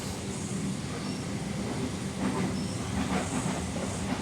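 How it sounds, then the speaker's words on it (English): A passenger train runs along the main line near Stanmore, Sydney, its steady rolling rumble and soft rhythmic clatter of wheels on rails carrying at moderate distance without any talk. "So there'll be trains."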